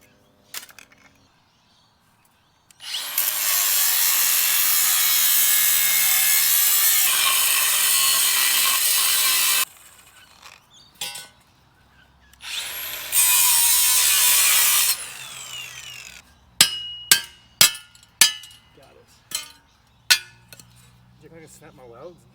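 Leftover welding scrap metal being cut up in a workshop, two long loud bursts of harsh grinding or sawing followed by a series of sharp metallic clinks and knocks.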